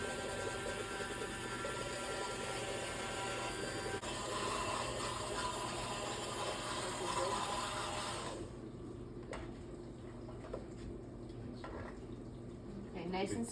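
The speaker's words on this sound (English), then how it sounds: "Kevin's going to use the immersion blender and get everything nice and smooth in our soup" An immersion blender pureeing butternut squash soup in a pot, a steady, loud whirring that runs for about eight seconds and then stops, with quieter clinks and talk afterward.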